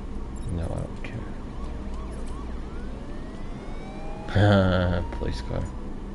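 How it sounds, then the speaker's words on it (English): A police car siren in Batman: Arkham Knight, wailing in rising and falling sweeps at moderate distance amid game ambience and a louder burst of action; someone talks over it. "Police car."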